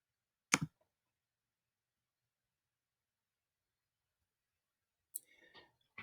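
A computer mouse click snaps sharply once near the start in a quiet room, followed after a long silence by another short click cluster and faint handling noise.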